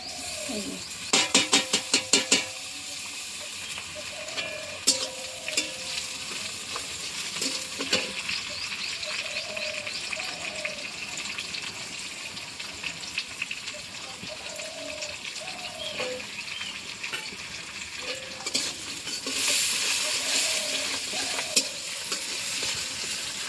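Fish oil fries with onions and green chillies in a pan, a constant close sizzle broken by repeated stirring scrapes and clanks, with faint animal calls like bleating in the background.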